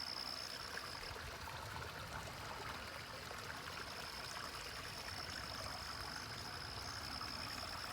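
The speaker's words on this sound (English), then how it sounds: "We got a little stream going here." A small stream trickles and bubbles steadily, a soft continuous water sound with a faint high tone running above it.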